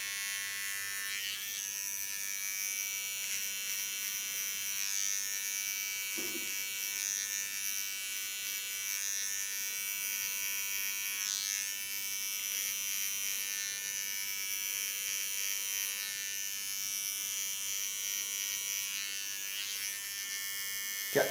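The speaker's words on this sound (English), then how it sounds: "Get on the tip of my clipper." An electric hair clipper buzzes steadily and close by throughout while cutting and contouring a hairline, its high whine holding fairly even with small shifts in pitch as it moves through the hair.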